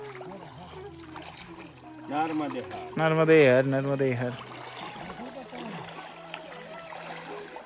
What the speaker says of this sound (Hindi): परिक्रमावासी पार कर रहे हैं अश्वपर्णी नदी।